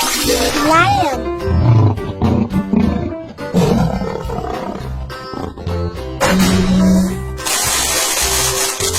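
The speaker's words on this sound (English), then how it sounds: "Lion." Loud cartoon lion roars from a children's animal cartoon come in several bursts mixed with playful music and other sound effects.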